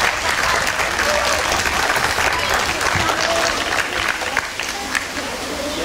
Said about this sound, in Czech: myslím si, že si to zaslouží potlesk